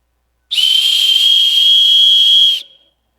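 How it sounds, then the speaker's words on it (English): A single shrill whistle is blown in a church service, one steady, loud, piercing tone held for about two seconds before cutting off. "I invite you to blow the whistle."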